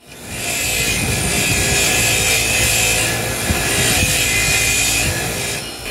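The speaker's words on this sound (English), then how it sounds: "So I'll clean it up with my wire wheel just very quickly." A wire wheel spins against a Champion spark plug, scrubbing off carbon with a loud, steady whirring rasp that lasts throughout, close and uninterrupted.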